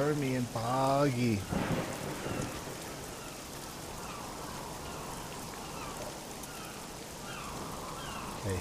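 Steady rain with thunder rolls across a stormy bog in the video game Submerged, a broad, even downpour that continues throughout, with a brief stretch of voice-like sound at the start.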